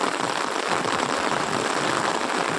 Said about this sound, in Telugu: వర్షం అయితే భయంకరంగా వస్తూ ఉంది.